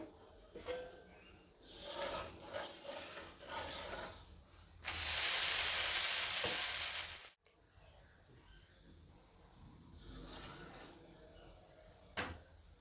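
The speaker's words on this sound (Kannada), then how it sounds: "ಇನ್ನೊಂದು ಸೈಡ್ ಬೇಯಿಸೋಣ ತಿರುವಾಕ್ಬಿಟ್ಟು" Jowar millet sponge dosa, gluten-free and cooked with a little oil, flipped on a hot pan. After soft crackling, one loud burst of hissing sizzle lasts about two and a half seconds, then fades back to a quiet crackle.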